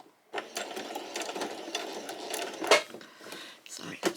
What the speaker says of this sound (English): take it to the sewing machine and stitch right across the top there